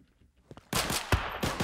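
In-game M1911 pistol fire from Firearms Source: Resurgence, heard as a few sharp, loud reports with a burst of layered gunfire after a quiet start, one shot standing out as especially punchy.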